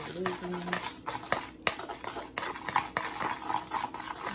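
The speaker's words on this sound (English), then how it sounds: "So what I'm going to do is just mix this up here." Seasoning is mixed into chicken thighs by hand in a bowl, giving irregular squelching, slapping and rustling sounds with occasional knocks, close and moderately quiet.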